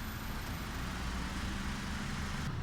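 Honda Civic FD 1.8S engine idling steadily, a low continuous rumble that holds even throughout, close by and alone with no voices.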